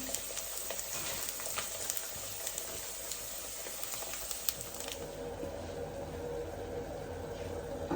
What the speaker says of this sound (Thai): ปลาทอดเสร็จแล้วนะคะ